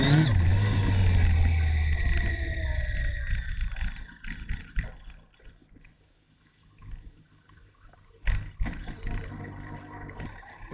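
A vehicle spinning its wheels hard on a loose gravel surface, a loud roaring, scrabbling burst for the first few seconds that fades into quieter rustling, with a sharp crunch or knock near the end.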